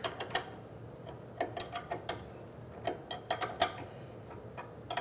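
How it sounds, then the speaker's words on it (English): A ratchet wrench clicks in irregular bursts of sharp ticks while tightening an inner tie rod nut on a Mazda CX-9, close and fairly quiet with pauses between strokes. "We'll come back with our 17 millimeter for this tool specifically and tighten them down."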